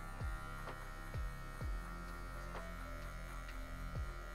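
Electric hair clippers fitted with a medium comb guard cut afro hair for a classic American fade, giving a steady close buzz with a strong hum. Faint rhythmic ticking and brushing strokes repeat roughly every half second.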